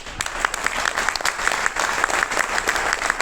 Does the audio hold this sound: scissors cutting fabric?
no